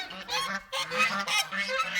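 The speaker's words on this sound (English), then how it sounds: "I heard Rue crow for the first time" A young rooster crows for the first time, a series of short hoarse honking calls in quick succession, close and fairly loud with no talk.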